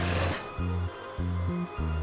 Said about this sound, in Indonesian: Nah, ini kita jahit.